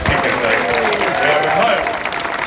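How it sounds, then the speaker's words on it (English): A crowd cheers and claps loudly at the opening celebrations for a 1950s cinema and shops at Beamish, with sustained applause and voices mixed into the roar. "please give me an enormous cheer and thank you to our brilliant weekend"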